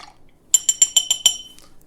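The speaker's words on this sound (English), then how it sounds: "I'm going to give this a quick stir." A spoon stirs a rum cocktail of juices and lemon juice in a glass, producing about six quick, bright clinks in a steady rhythm, close and fairly loud, then falling quiet.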